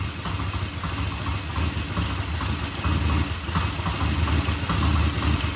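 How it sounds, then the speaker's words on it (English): A Norton motorcycle engine idles steadily at about 800 RPM, a continuous low rumble with an even, loping pulse, close and fairly loud, with no one talking over it. "That's about an 800 RPM idle,"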